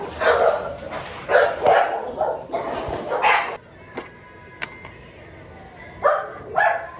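A dog barks loudly and close by in a series of clustered barks, pausing between bursts, with a few sharp knocks in the quieter stretch.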